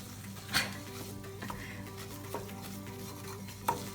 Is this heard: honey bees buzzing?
no